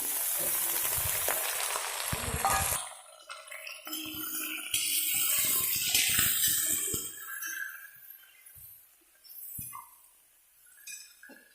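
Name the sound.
chicken meat frying in pan with onions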